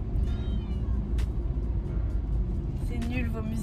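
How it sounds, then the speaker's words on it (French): A distressed cat meowing from the back of a car, faint cries rising over a loud, steady road and engine rumble, with speech and some background sound mixed in. "Écoutez comment elle miaule derrière."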